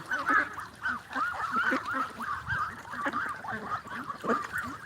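A flock of young farm ducks, 35 to 40 days old, quacking and honking nonstop close by, many overlapping calls forming a dense, busy chorus.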